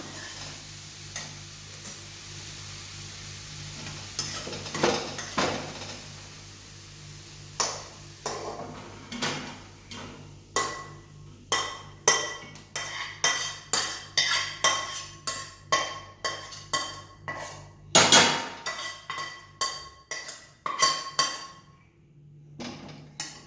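Sautéed grated carrot for carrot halwa being scraped and transferred back into a bowl, a long run of sharp metal spoon taps and clinks against the pan and bowl, quickening toward the end with a brief scrape.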